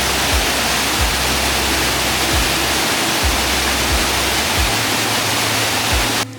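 A waterfall and river on a Kodaikanal farming estate roar in a loud, steady wash of rushing water, with occasional low thumps beneath, cutting off abruptly at the end.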